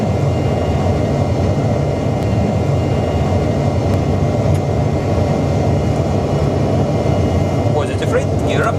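Boeing 737 flight simulator jet engines spooled up to takeoff thrust, a loud, steady, close roar with broadband rumble that continues throughout.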